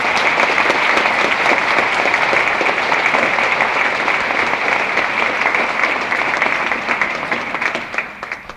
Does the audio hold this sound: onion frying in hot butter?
no